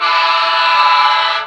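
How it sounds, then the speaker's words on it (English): A loud, sustained train horn blasts continuously near a high school football stadium during a playoff game, a close, unbroken tone with no talk over it. "I guess y'all can hear that train horn."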